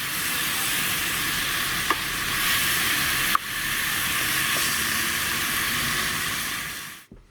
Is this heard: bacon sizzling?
yes